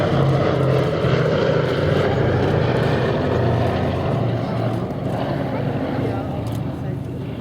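Four-engined B-17 bomber Sally B flying at the Duxford air show, a steady loud drone of piston engines and propellers that holds throughout, with a voice talking over it.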